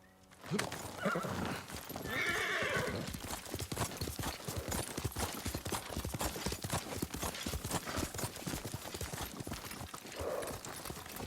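A horse's hooves pound in a fast, steady clip-clop rhythm in the video game Ghost of Tsushima, with a neigh early on, close and loud throughout.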